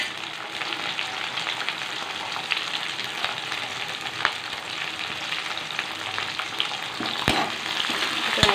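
Tomatoes and curry leaves sauté in hot oil in a pan for an egg kuzhambu, giving a steady, close sizzle with light crackles and a few sharp pops near the end, and nobody speaks.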